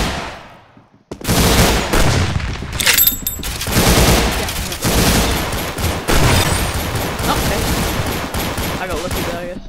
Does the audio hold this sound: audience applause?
no